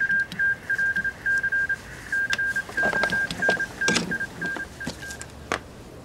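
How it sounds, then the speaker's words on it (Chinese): Touch-tone telephone dialing in a Chinese wartime TV drama, a rapid run of short, even DTMF beeps with brief gaps, followed by faint rustling and small handling clicks. "薛长官亲自来电督促我们，命令我们3日之内向武汉发起总攻。"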